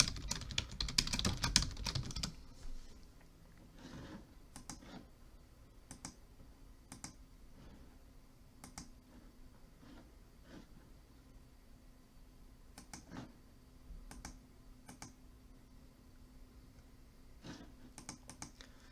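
A new password goes in on a computer keyboard, sounding as scattered single key taps spaced out over many seconds. A louder cluster of clicks comes at the start, and the whole thing sits quiet and close over a faint hum.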